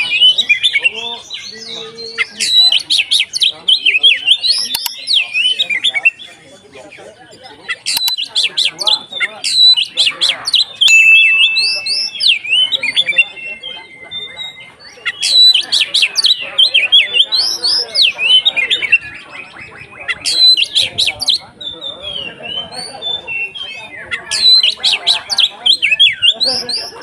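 An oriental magpie-robin (kacer) sings loudly and close, repeating shrill whistles, rapid chirps and harsh chattering phrases in bursts with short gaps throughout.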